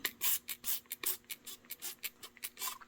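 Quick repeated hissing sprays from a pump bottle onto plant leaves to treat aphids, about a dozen short bursts in a steady rhythm, close by.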